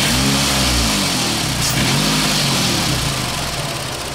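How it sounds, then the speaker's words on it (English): A car engine, up close and loud, goes through quick throttle bursts with the revs rising and falling in a constant roar and no voices. "Now we're going to do some quick throttle burst."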